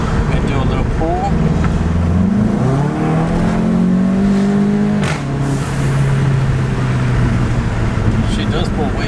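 A Volkswagen Golf MK7 GTI with dogbone mount insert accelerates hard in a steady pull, engine note climbing then settling, heard from inside the car under broadband road noise.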